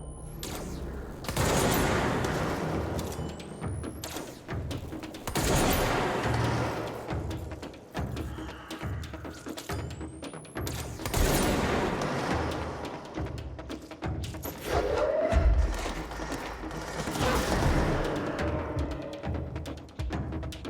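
The charged-shot weapon in Control fires in combat. Repeated heavy blasts, each with a booming tail, come at intervals of a few seconds, mixed with other crashes and debris of the fight, with no speech.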